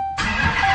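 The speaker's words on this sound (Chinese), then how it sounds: "没想到车子竟然一次就启动成功了，并且发动机的声音听起来还很好听" A crash-damaged Dodge Hellcat, engine exposed and powered from a portable battery pack, cranks and fires on the first try, a single loud start jumping from near silence into a full, steady idle.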